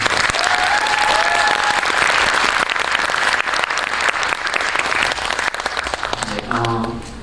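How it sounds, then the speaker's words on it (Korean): Loud, sustained audience applause welcoming two actors, a director and a translator to an artist talk for A Midsummer Night's Dream at the Myeongdong Theater, dense clapping that thins as a speaking voice enters near the end. "일단 박수 부탁드립니다"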